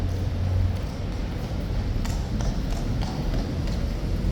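A King's Guard horse walks slowly, its hooves clopping in a loose, unhurried rhythm over a steady low rumble of background noise.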